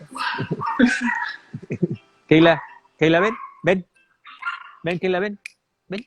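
Dogs bark and yip indoors in short bursts, loud and close, while a man calls out between the barks.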